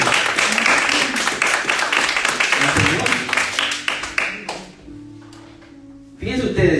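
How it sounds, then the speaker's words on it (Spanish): Loud congregation applause during a Spanish-language church sermon, dense sustained clapping close by that fades out, followed by a brief lull and a fresh burst. "Préndelo fuerte aplauso."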